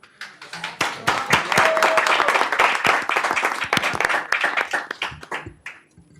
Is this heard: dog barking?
no